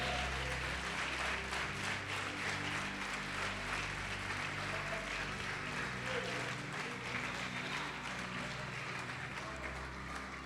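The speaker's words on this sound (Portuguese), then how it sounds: "Pode aplaudir e glorificar." Congregation applauding during a church sermon on the Lord's Supper, a steady dense wash of clapping sustained throughout with some voices mixed in.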